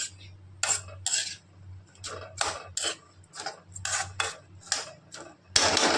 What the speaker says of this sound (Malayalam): അപ്പോൾ ഇതാ നന്നായിട്ട് ഇളക്കി കൊടുക്കാം